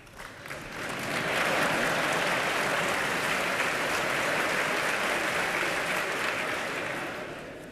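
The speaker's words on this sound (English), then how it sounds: "Some of you have just risen here to applaud me" Members of the US Congress applaud Boris Yeltsin, a broad, sustained round of clapping that builds over a second, holds steady and begins to fade at the end.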